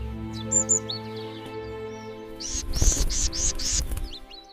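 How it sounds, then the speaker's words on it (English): A small bird chirps in a quick burst of four or five bright, high tweets, close and clear, after a few softer calls over a quiet musical backdrop. "High on a branch lived a little bird named Lila"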